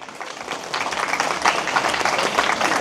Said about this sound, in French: Je pense qu'on peut l'applaudir quand même.